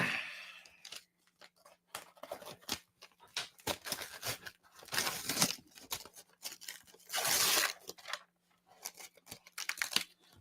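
Brown wrapping paper torn off a gift in several bursts of ripping and crinkling, close and fairly loud, separated by short pauses of handling.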